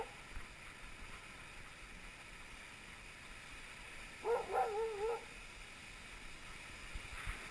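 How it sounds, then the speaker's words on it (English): One sled dog from a kennel team lets out a short, thin whine lasting under a second, faint and somewhat distant over a steady outdoor background hiss. "Got a good looking dog team here."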